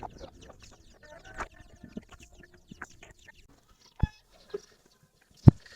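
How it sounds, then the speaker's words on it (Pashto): Hens cluck faintly around a rural farmyard, with scattered soft calls and a few sharp, close knocks standing out from the quiet background. "د امین چرګې دا دي"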